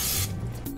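Cooking spray hisses onto the grid of a Waring waffle cone maker in a short, close burst lasting under a second.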